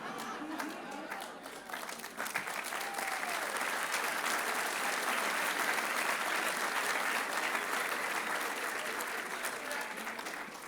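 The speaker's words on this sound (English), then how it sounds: "Wait before you start clapping." Sustained crowd applause at a college address, lighter clapping at first swelling into a loud, dense ovation mixed with crowd noise and voices, holding steady to the end.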